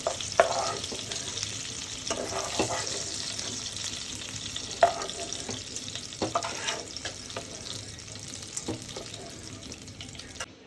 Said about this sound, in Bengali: ইলিশ মাছটা বেশি ভাজলে স্বাদ থাকে না, এই জন্য অল্প ভাজাতে উঠিয়ে নেব।